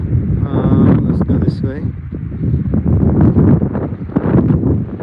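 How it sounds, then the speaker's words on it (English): Gusts of wind buffet the microphone with low rumbling roar in an open outdoor area while someone speaks briefly over it. "Man, it's windy down here"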